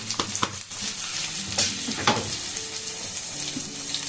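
Chopped onions and white pepper stirred and frying in a pan, a continuous close sizzle broken by scraping spoon strokes and a few sharp clinks.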